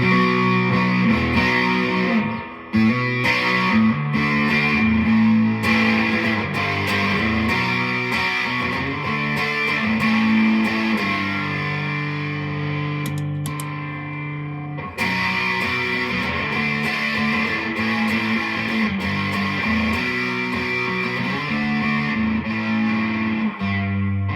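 A distorted electric guitar played through a DOD 250 distortion pedal plays continuously with heavy reverb, chords ringing and sustaining loudly, briefly pausing around the middle before resuming.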